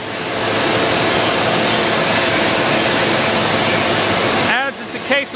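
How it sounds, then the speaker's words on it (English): A model CP4 screw press dewatering distillers spent grain, its motor and gearbox driving the screw in a steady, loud, broadband whirring hum that holds constant before cutting out abruptly near the end, leaving brief faint tones. "We're going to be running it in our model CP4 screw press."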